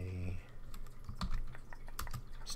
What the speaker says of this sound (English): Let's type this quickly.